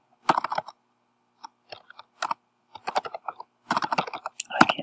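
Bursts of clicky typing on a computer keyboard come in short irregular runs separated by pauses, close and crisp in a quiet room, ending with a flurry of faster keystrokes.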